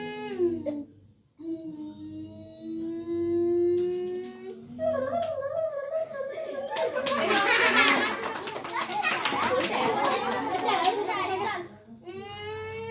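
A young boy imitates a jeep driving with his voice, a wavering droning hum that rises into a rough, rattling engine roar before fading.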